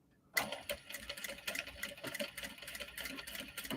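Close sewing machine stitching a clutch sewn from obi and kimono fabric, starting abruptly after a brief silence and then running in quick, uneven bursts of rapid needle rattle at a moderate level.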